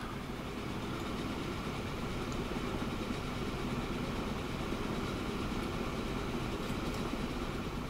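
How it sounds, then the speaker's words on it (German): A train pulls out in the railway simulation game Train Fever, a steady, loud rumble of rolling wagons and engine noise that holds even for the whole stretch, with no talking. "Dann kommt hier der nächste Zug raus."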